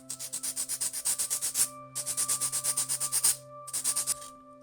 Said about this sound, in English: before insert the piece in the center, we need to sand it a little bit.